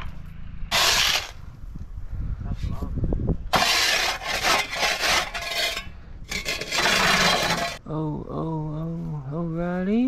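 A Sawzall reciprocating saw on a concrete pool deck footer repair job makes three loud, rasping cutting bursts of differing lengths, close by, and a voice is heard near the end.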